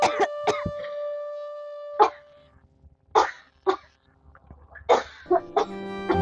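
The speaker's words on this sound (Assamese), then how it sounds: "কি হলো, ইমান কাহি আছা যে আজি?" A person gives several hoarse coughs in scattered bursts, some with throat clearing, close and fairly quiet, with short silences and faint tonal sounds between them.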